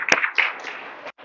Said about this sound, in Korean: 우리 재정 집사님 박수 한번 쳐주시기 바랍니다